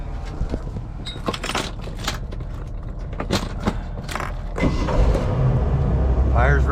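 A 1998 Striper 2150 boat's engine cranks and restarts after a few seconds of mechanical clicks and clunks, settling into a steady idle up close while someone talks.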